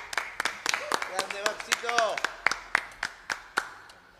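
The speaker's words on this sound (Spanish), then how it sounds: "¡Un aplauso!" Sparse clapping from a small audience at a live concert stop in Chile, separate claps ringing out unevenly under a speaking voice and a few sung notes.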